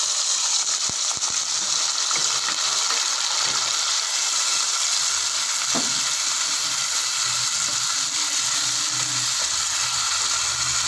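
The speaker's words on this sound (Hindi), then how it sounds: "कढ़ाई को हमने चूल्हे के ऊपर चढ़ा दिया और इसमें हमने घी डाला। अब हम इसमें डालेंगे प्याज।" Onions frying in ghee in a kadai on a stove give a steady, bright sizzle throughout, with a few faint clicks and scrapes of stirring now and then, close and without any talking.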